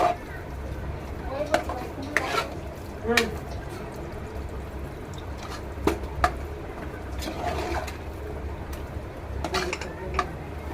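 Dal khichdi stirred in a pot as water is added, heard as intermittent spoon clinks and scrapes against the metal over a soft watery background, with a person talking at times.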